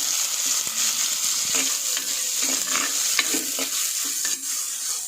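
Tomatoes sautéing in a pan for a fish curry, with a steady sizzle and repeated stirring scrapes throughout, close and fairly loud with no talking.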